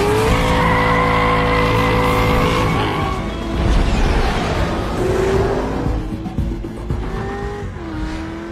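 A car in a film chase screeches into loud, sustained tire squeal and skidding over a roaring engine, with pitch sweeps as it speeds and swerves, close and intense throughout.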